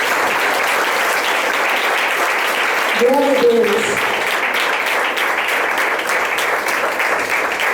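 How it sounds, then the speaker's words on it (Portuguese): A church congregation applauds steadily throughout, a dense wash of clapping while a voice calls out briefly in the middle. "e aplaude o Senhor Jesus."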